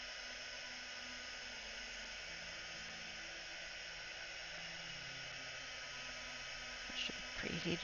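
An embossing heat gun runs with a steady, airy blowing hiss from start to finish at moderate level. Near the end a brief voice-like sound rises over it.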